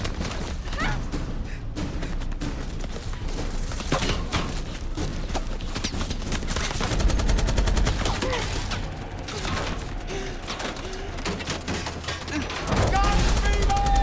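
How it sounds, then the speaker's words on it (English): Gunfire in a chaotic Mad Max: Fury Road chase scene crackles as rapid, dense bursts layered with engine roar, music and shouting voices, loud and continuous throughout. "Don't they know they're shooting at us?"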